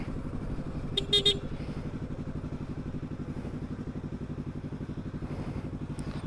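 Yamaha R25 motorcycle engine idling in neutral on a city street, a steady close, even low throb running throughout, with a brief higher-pitched horn-like beep near the start.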